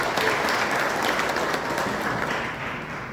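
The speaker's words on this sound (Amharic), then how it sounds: "አጨብጭቡላችሁ።" A crowd applauds a newly married couple at a church wedding, steady dense clapping that fills the space and fades slightly toward the end.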